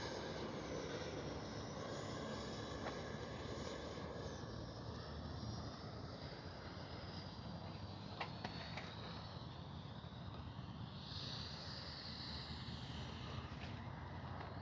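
Twin 64mm electric ducted-fan RC F-15 jet on a landing approach with flaps deployed, giving a steady, fairly faint whooshing whine that holds throughout with some wind noise and no talk.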